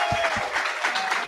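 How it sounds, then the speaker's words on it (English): Brief burst of applause from a crowd at an election night party for the Johnson/Weld campaign in North Carolina, dense and steady with a few low thumps early on. "we owe that woman a great round of applause"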